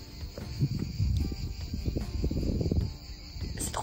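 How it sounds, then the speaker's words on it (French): Dense, continuous buzzing of cicadas outdoors, a steady shrill drone with low rumbling wind or handling noise underneath. "Vous entendez d'ailleurs ce bruit derrière? Les cigales sont là."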